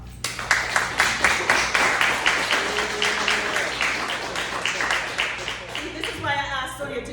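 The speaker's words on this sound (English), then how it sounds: "let's clap her up" A crowd applauds steadily at a book launch and signing, a sustained wash of many hands clapping throughout, with a cheer or whoop rising near the end and voices mixed in.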